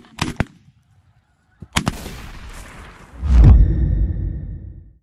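Shotguns fire at ducks during a waterfowl hunt: two sharp, loud blasts early on, then a brief gap, another burst of shots, and a heavy rumbling whoosh that swells and lingers to the end.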